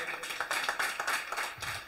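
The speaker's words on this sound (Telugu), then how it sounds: "దేవుని స్తోత్రం చెప్పండి, గట్టిగా చప్పట్లు కొట్టండి" A church congregation claps hands in quick, regular rhythm, a fairly faint patter of many palms heard from a little distance, with a voice mixed in.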